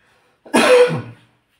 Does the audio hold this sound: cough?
yes